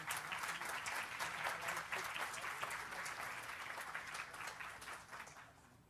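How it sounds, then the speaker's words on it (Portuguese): An audience at an education lecture in Brazil applauds a senator, a dense clapping that holds steady for several seconds and then begins to thin and fade. "o senador Cristóvão Buarque, para o qual eu peço uma salva de palmas"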